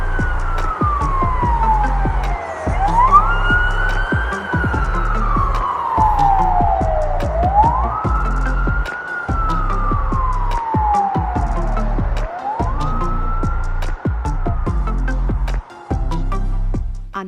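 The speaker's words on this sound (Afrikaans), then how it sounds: "Hierdie is 'n ambulans." An ambulance siren wails loudly and continuously, rising and falling in slow repeating sweeps, with a steady low rumble underneath and no talk.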